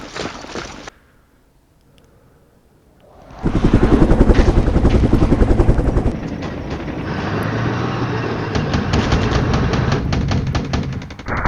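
Helicopters in the wargame Flashpoint Campaigns: Southern Storm, a loud rotor drone that cuts in after a quiet gap and continues steadily with rhythmic thumping.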